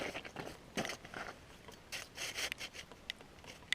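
An ice auger cuts holes through lake ice for ice fishing, giving faint, rhythmic scraping and grinding strokes with brief pauses in between.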